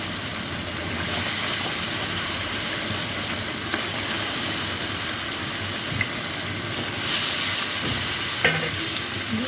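Chicken pieces fry in a spice masala for a farm-chicken roast, giving a steady close sizzle with occasional faint clinks and scrapes and a slight rise toward the end, with no voices.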